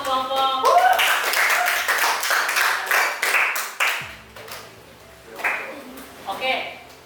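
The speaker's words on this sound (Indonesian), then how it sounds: "Beri aplaus untuk kelompok." A classroom group draws a short burst of hand clapping after its presentation, quick irregular claps over the first four seconds, then a teacher talks on with faint tones underneath.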